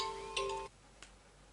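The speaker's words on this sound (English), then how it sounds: "oh no, somebody's calling me." A phone rings with an incoming call: a short tonal ringtone burst at low volume, cut off partway through, followed by a faint tick.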